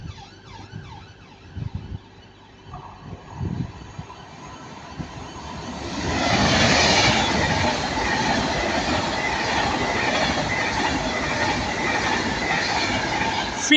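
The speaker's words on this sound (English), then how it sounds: "got another passer, Avanti West Coast Class 390. It's going towards Glasgow" An Avanti West Coast Class 390 train passes at Stafford, heading north toward Glasgow. A faint rising whine comes first, then a loud, sustained rush of wheels and rail noise fills the second half, with faint squealing tones.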